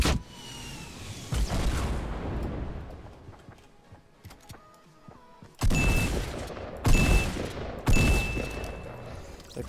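Gunfire in Fortnite: an opening stretch of rattling shots, a quieter pause with scattered clicks, then three loud, separate bursts of automatic fire up close.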